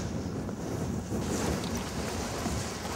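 Strong wind gusts across the Finistère coast, roaring and buffeting the microphone in a dense, continuous rush with a faint surf-like wash beneath it.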